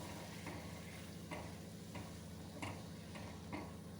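Fish curry masala paste frying in a pan while being stirred, a soft low sizzle with regular spoon scrapes and taps every second or so, fairly quiet and without voices.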